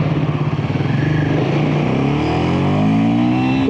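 Royal Enfield Himalayan 450 motorcycle on an off-road run, its engine note rising steadily as the rider forces a stiff lever into fourth gear, loud and close with a continuous throaty drone.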